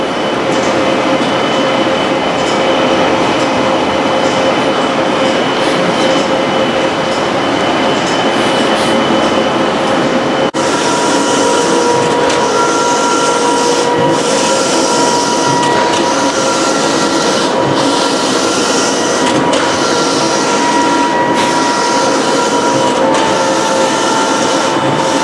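A Mimaki JV330 wide-format printer running a job, giving a loud, steady mechanical drone with whining tones and rhythmic carriage passes that grow more pronounced partway through, close up and continuous.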